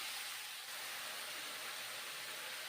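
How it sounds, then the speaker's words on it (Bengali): Mushrooms fry in mustard oil with a bright, continuous hiss that holds steady and close throughout, with no one talking. "মাশরুমগুলো ভেজে নিচ্ছি সর্ষের তেল দিয়ে ভেজে নিচ্ছি"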